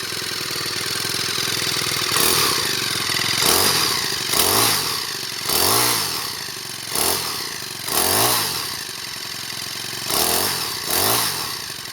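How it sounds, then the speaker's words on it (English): A small Craftsman 26cc four-stroke rototiller engine chugs and idles nearby while warming up, rising in brief rhythmic surges every second or so over a steady mechanical hum. "These 4 strokes, you definitely want to let them warm up for a minute."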